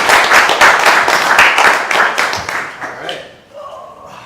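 An audience at a Startup Grind Ottawa event claps in a dense, loud burst of applause that tapers off into quieter room noise and a few voices.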